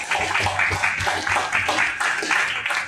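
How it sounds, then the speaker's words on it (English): Conference audience giving a short round of applause for the sponsors, steady dense clapping from many hands, fairly loud and close, with no one speaking over it. "it would be nice maybe to have like a small applause for them"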